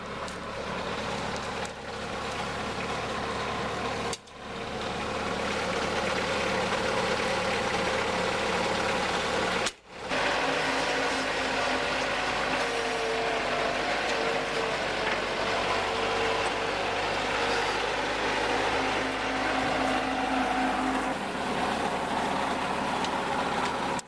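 A tractor engine running with a skid steer grapple attached, a loud continuous mechanical drone with a low steady hum and two brief dips, no talking.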